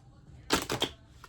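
A quick, brief riffle of tarot cards, a fluttering burst of rapid clicks lasting under half a second in a quiet room.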